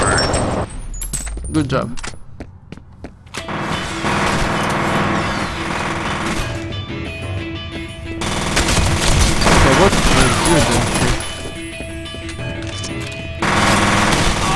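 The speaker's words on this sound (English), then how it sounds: "Now let's use my sniper rifle." Heavy gunfire from a video game, Fear Perseus Mandate, with a sniper rifle among the weapons: loud, dense rattling bursts with brief gaps and clanking mechanisms, and a voice speaking briefly.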